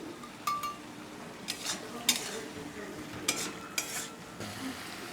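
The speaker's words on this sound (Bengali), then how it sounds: "এবার আমি আলুটা দিয়ে ভালো করে কষিয়ে নেব।" Potatoes are sautéed in spiced oil under a soft sizzle, with repeated scraping and clinking strokes of a utensil against the pan at an irregular rhythm.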